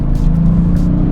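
A tuned 2019 Audi S6 with a V6 diesel engine, a loud, close, deep droning growl held steady at speed with a rich throbbing rumble.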